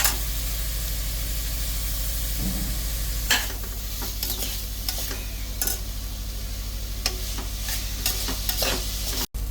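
Moong dal sizzles and fries in a pan for Ramadan nonbu kanji with mutton, a steady broadband hiss broken by repeated scraping stirs of a spoon, close and continuous with no talk.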